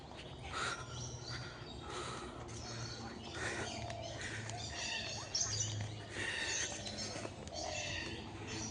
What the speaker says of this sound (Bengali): পাখি রয়েছে, পাখির আওয়াজ শোনা যাচ্ছে।